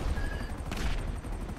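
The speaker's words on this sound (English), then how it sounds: "I just ripped that fucking jet apart with my cannons on this thing" Sustained rapid cannon fire from a military jet in the video game Grand Theft Auto V during a cargo plane intercept, a dense continuous rumbling roar with bursts, steady and fairly close throughout.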